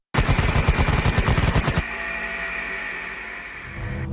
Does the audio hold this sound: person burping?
no